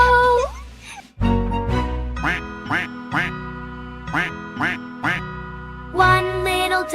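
Duck quacks from a children's nursery song, sung as repeated bursts of 'quack' within a bouncy musical backing, with several distinct quacks spaced across the passage.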